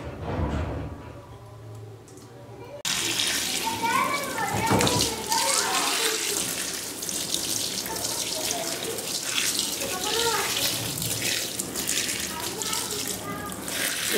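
A washing machine draining and swishing water around a heavy double-bed quilt, a loud steady gush that starts abruptly after a quieter opening and churns on continuously, with faint voices at times.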